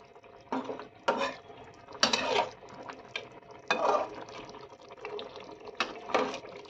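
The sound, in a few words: water poured into a pan of potatoes and spices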